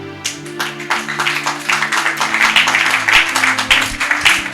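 A church congregation applauds to acclaim the Lord, a steady dense patter of many hands clapping, fairly loud and close, over a sustained organ or keyboard chord.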